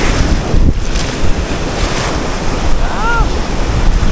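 Loud, rushing whitewater splashes and churns continuously up close during river rafting near Manali, with wind buffeting the microphone throughout.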